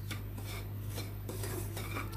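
Semolina is lightly fried in a pan and stirred with a metal utensil, making repeated scraping and clinking strokes over a low steady hum.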